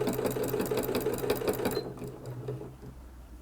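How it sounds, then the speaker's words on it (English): A sewing machine stitches binding along the raw edge of a quilt, its rapid mechanical chatter running steadily and loudly before stopping abruptly partway through, leaving a quieter hum. "we're just sewing along the length here, getting our raw edges up against the quilt"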